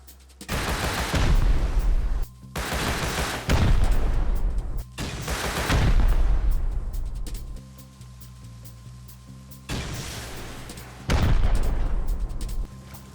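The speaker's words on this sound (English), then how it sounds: "I headed back to base and grabbed a few high velocity rockets in order to break some turrets" Rockets slam into turrets in Rust, a series of heavy booming blasts with long rumbling decays, loud and close, separated by brief lulls with low mechanical background.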